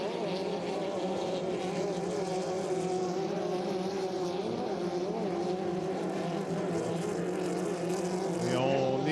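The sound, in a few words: racing boats taking the last turn in a hydroplane race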